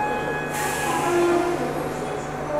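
Diesel or electric train at Trivandrum station starting its late departure on a four-day unreserved-coach journey, a steady rumble with tonal hums and a brighter hiss swelling in after a moment, close and continuous.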